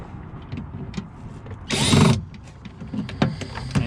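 A power tool briefly whirs loudly as a screw is tightened while installing a car speaker in a 2003 Honda Accord sedan, surrounded by small clicks, rattles and handling noises nearby.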